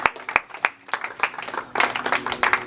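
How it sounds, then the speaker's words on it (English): A small yoga class claps in scattered, uneven applause for a few seconds, close and moderately loud, growing denser toward the end. "Give yourselves a round of applause, that was very good."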